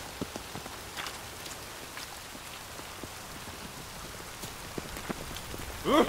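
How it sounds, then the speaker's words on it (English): Steady rainfall in The Witcher 3: Wild Hunt, a soft continuous patter with scattered individual drops, ending with a short voice at the close. "Witches have conjured rain again."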